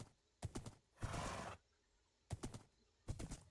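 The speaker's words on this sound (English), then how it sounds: "I think this horse is a lot faster than the other one." A horse in the Minecraft video game makes short, separate bursts of hoof sounds and a brief neigh, a few isolated events with quiet gaps between them, and no talk.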